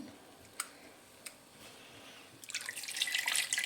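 Tamarind extract poured into simmering fish curry in a pan, heard as a wet pouring splash that builds and thickens over the final second, after a couple of faint drips and clicks in a quiet kitchen.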